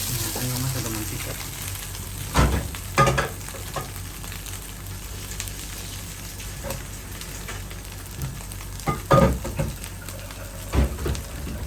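Oil heating in a pan for pancit canton with egg and sardines, a steady close frying sizzle with clattering stirs and scrapes breaking through at intervals.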